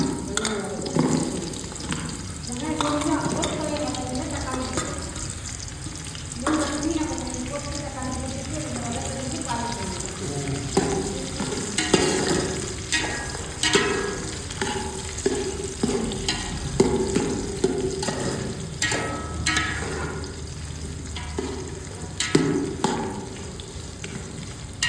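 Onions frying in hot oil in a pan give a continuous sizzle with bursts of crackle and scraping stirring throughout, close and fairly loud, while someone talks intermittently over the cooking.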